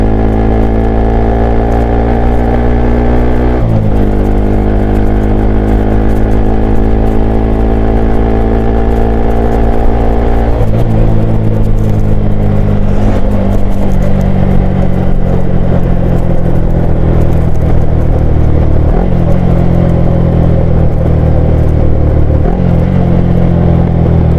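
A motorcycle fitted with an Akrapovic slip-on exhaust runs loud and close throughout, its exhaust note rising and falling as it revs through gear changes, with a deep throaty rumble.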